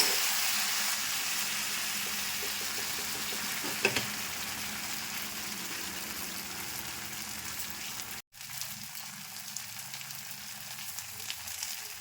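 Lentil fritters frying in a little oil on a flat pan: a continuous soft crackling sizzle, with a brief scrape and a short break near the end before the frying hiss resumes.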